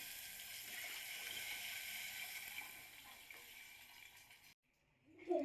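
Tamarind water pours steadily in a home kitchen while rasam is prepared, a continuous splashing rush that runs for several seconds before stopping abruptly, followed by a short clatter.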